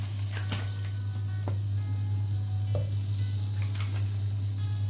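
Two tablespoons of butter melt in a pot, giving a steady low sizzle over a constant low hum, with a few faint clicks and taps.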